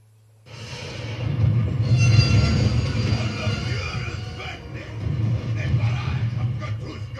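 A steady low rumble of a train rolling toward Berlin in the Call of Duty: World at War mission Ring of Steel, swelling in after a quiet start and holding as a continuous mechanical drone.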